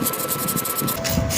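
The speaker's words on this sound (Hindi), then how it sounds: "अगर किसी रोटर में जंग लगा हुआ तो उसको रेगमाल से साफ़ कर लें" Sandpaper rubbing the rusty rotor of a pedestal fan motor, a continuous loud rasping scrub with rhythmic back-and-forth strokes, close up and without speech.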